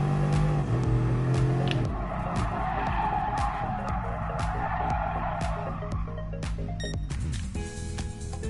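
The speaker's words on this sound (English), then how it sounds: "I wonder if pulling the emergency brake will slow it down faster" A car in Gran Turismo Sport skids hard under the emergency brake, a loud sustained tire squeal over the engine's drone that slowly fades and drops away near the end.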